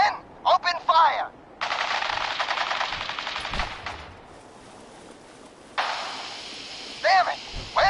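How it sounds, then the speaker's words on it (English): Machine gun fire in the Fallout video game: two long sustained bursts of rapid automatic fire, loud and close, separated by a quieter gap, with brief shouted voices at the start and end. "Stop or we'll shoot. Men, open fire."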